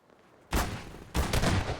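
Enemy gunfire in Half-Life 2: Episode 1, two loud bursts of rapid shots, the first after a short quiet lead-in and the second following a brief pause, close and harsh.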